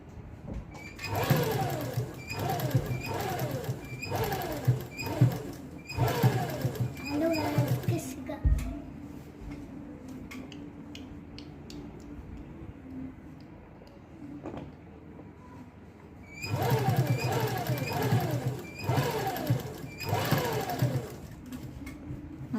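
A sewing machine stitches gum lace onto fabric in quick repeated bursts, close and fairly quiet, with a long pause in the middle filled by faint handling noises before it runs again.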